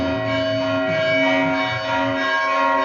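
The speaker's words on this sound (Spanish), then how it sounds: "Esta es una campana en honor a Hermete Costanzi" A church bell rings with a sustained, resonant metallic tone that hums steadily throughout.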